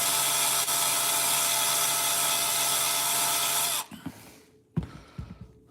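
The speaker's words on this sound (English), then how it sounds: "we take a buff and we'll hit it again." A rotary tool buffs a clear Lexan RC car body with painted interior, a loud steady high whine running for nearly four seconds before cutting off, followed by a few soft handling knocks.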